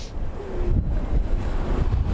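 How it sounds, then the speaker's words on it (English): Ocean waves wash in over stones, rocks and shells at the shoreline with a continuous rushing surge. Heavy wind buffets the microphone throughout. "The waves coming in"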